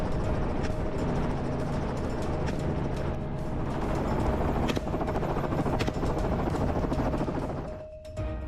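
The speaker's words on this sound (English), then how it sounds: "Using helicopters and small planes, they began hunting from above." Steady loud rotor and engine roar of a helicopter flying close by, continuous throughout with a brief dip near the end.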